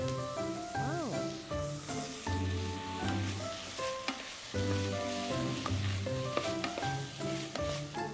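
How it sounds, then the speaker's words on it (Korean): Onions and scallions stir-fry in a pan with a steady crackling sizzle, while background music plays throughout. "양파가 조금 볶아졌다 싶으면 파를 넣을게요"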